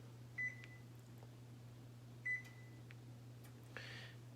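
Two short electronic beeps about two seconds apart as an oven is set to preheat to 350 degrees for toasting coconut, followed by a faint click and a brief soft whoosh, all over a steady low appliance hum.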